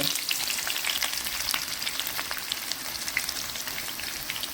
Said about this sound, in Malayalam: നമ്മൾ നെയ്ക്കകത്ത് നല്ലതായിട്ട് വറുത്തെടുക്കാൻ പോട്ടോ.